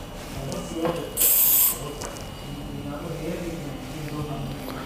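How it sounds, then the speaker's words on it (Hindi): Hair spray hisses from an aerosol can onto a girl's layered hairstyle in one short, loud burst of about half a second, heard over low background noise and murmuring voices. "हेयर स्प्रे यूज़ करना है इस तरीके से।"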